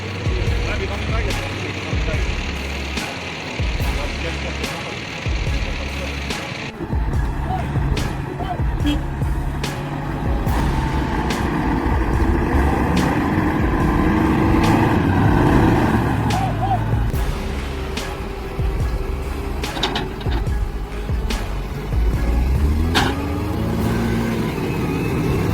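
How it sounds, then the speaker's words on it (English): Farm tractors strain to haul heavy trucks out of deep mud, engines droning and revving under load with shifting rumbles throughout, while a voice talks over the machinery. "Watch these powerful tractors flex their horsepower and yank those heavy trucks out of the muck"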